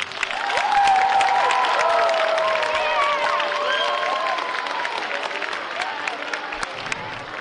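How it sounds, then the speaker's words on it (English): Applause from the audience at a school Chinese New Year celebration honoring students and special guests, a steady crowd clapping over about seven seconds with some whistle-like tones and chatter mixed in, fading slightly toward the end. "Please give them a round of applause."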